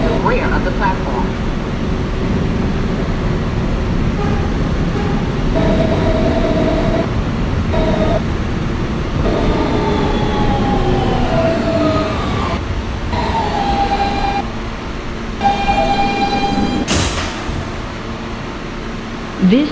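A Kawasaki R160B Siemens subway car on the R local line runs with a loud, continuous rumble and squealing wheel tones, while a voice announces over the noise throughout.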